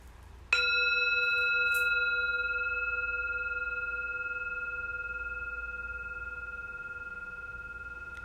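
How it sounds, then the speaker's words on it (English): A meditation peace bell struck once, giving a bright, clear strike followed by a long pure ringing tone that fades slowly over several seconds in a quiet room. "We'll begin and end the practice with 3 chimes of the peace bell."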